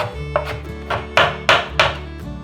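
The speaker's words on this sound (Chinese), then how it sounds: "换个方向，把红萝卜切碎" A knife chops a carrot finely on a board, five crisp, close strikes in an uneven rhythm with a faint steady musical backdrop underneath.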